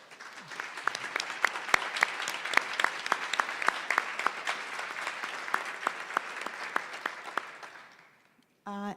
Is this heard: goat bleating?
no